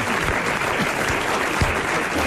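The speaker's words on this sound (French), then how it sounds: "Et on l'applaudit, lui, parce qu'il le mérite." Studio audience on a French radio quiz show applauds a winning contestant, steady dense clapping filling the room without pause for a couple of seconds.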